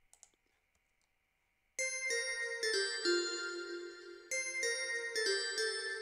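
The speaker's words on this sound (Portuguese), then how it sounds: "coloquei um nexus aqui para colocar uns sininhos básicos" Small synth bells from a Nexus plugin in a love-song beat ring out bright and clean after a quiet start, with several layered chimes that sustain, followed by a second run of struck bell notes, loud and close.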